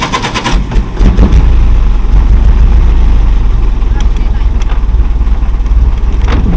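A vintage GAZ-67 military car pulls away, its engine rising to a loud, steady rumble that is close by and continues to the end.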